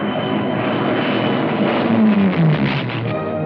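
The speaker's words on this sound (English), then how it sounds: "fighter planes from Gibraltar, fitted with extra fuel tanks, took off without even waiting to hear whether the landing fields at Algiers had been captured" Fighter planes fitted with extra fuel tanks take off from Gibraltar during the Second World War, a loud, steady engine roar filling the scene with a rising drone throughout.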